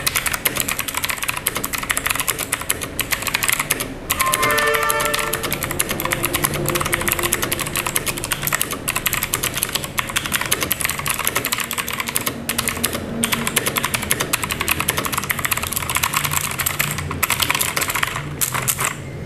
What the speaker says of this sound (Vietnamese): Mình đã đưa cái mic vào gần chiếc bàn phím hơn để cho các bạn nghe được tiếng gõ của em này hơn.